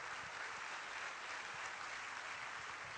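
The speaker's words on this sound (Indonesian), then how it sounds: "Tepuk tangan untuk Bapak saya." A steady, even burst of audience applause fills a business opportunity presentation hall, sustained clapping throughout with no break.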